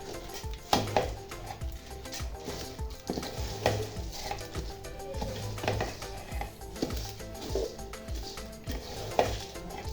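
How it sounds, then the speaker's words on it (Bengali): Red rice and lentils mixed with spices in a pot for khichuri, heard as continuous close scraping and stirring with light metallic knocks and clinks of a spoon against the vessel. "এখন আমি মশলার সঙ্গে চাল ডাল এগুলো সুন্দর করে মাখাই নিতেছি।"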